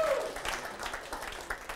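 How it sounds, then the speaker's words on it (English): Faint studio audience applause after a magic act on a local TV show, soft scattered clapping over a few seconds. "Come on, big round of applause. Big round of applause."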